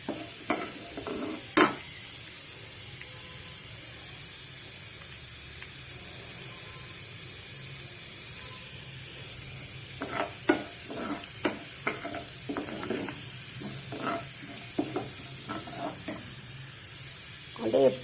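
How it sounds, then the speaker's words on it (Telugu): Urad dal, mustard seeds, cumin and chillies tempering in hot ghee give a soft, continuous hiss, with scattered clinks and scrapes of a spoon against the pan, denser in the second half, and no talk. "పోపు దినుసులు వేసేస్తున్నానండి. మినపప్పు, ఆవాలు, జీలకర్ర, మిరపకాయలు."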